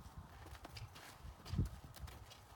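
Horse hooves trot in a steady clip-clop rhythm while the animal is driven on long lines with a surcingle, a firm hoof strike standing out midway over low outdoor noise.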